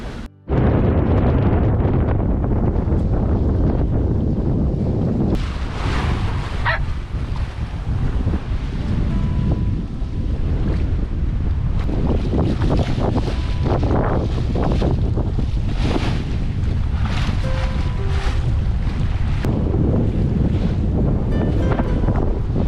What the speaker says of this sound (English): All day we've been begging for this wind.